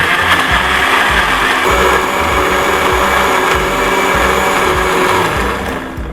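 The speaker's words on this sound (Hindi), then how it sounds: "और अब मैं सिंपली इसको कर लूँगी ब्लेंड।" A blender whirs steadily and loudly as it blends a yogurt face mask into a smooth paste, running continuously on its own with no voices.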